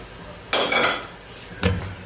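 Rice tipped into a cooking pot for chicken mutanjan, with a scraping clatter of a spoon against the pot at about half a second and a second clank near the end, with quiet stirring between.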